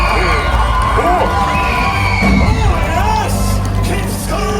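At a Walt Disney World villains show finale, a large theme-park crowd screams, whoops and cheers loudly and continuously, with children's shrieks and general babble mixed in.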